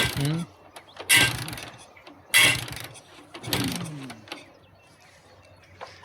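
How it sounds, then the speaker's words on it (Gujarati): Several sharp mechanical kicks from repeated attempts to kick-start a motorcycle that won't start on a cold morning, each a brief clattering burst, with fainter rattles and knocks between them. "કીક તો આવું હોરી લાગે છે પણ ચાલુ નહીં થતું"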